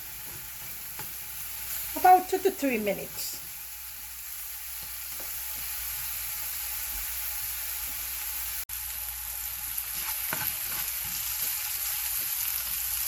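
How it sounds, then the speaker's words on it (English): Fish frying in a pan for Caribbean stewed fish, a steady soft sizzle running throughout, with a brief burst of clattering stirring near the start and a spoken remark partway through. "spread this out, and let it fry up a bit"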